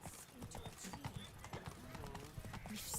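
Roach the horse trotting in The Witcher 3, with steady clip-clop hoofbeats close by throughout, a brief whinny and a voice over the hooves.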